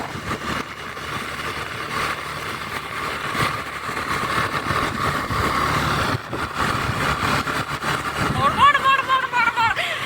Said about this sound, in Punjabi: ਲਓ ਜੀ ਸਾਡੀ ਸਕੂਟਰੀ ਲੰਘ ਗਈ